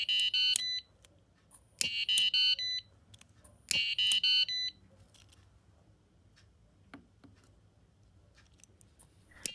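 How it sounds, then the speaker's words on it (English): An Arduino flame detector module sounds its alarm tone in three loud, repeated bursts of high pulsing beeps about two seconds apart, then falls quiet apart from faint clicks and a low background hum. "So you can see it is playing the alarm tone by detecting some flame"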